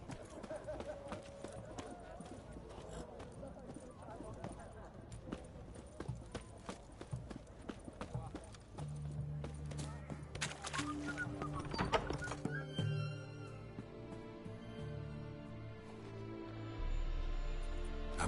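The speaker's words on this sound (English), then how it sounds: "Whoa there, Roach." Geralt's horse Roach in The Witcher 3 clip-clops along with a whinny amid game music and ambience, while characters talk over it.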